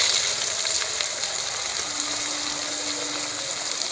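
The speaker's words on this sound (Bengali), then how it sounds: "পেঁয়াজটা কিছুক্ষণ ধরে ভেজে নেব।" Onions frying in hot oil with whole spices like bay leaf, cinnamon, cardamom and cloves, a loud steady sizzle and bubbling hiss that runs throughout without talk.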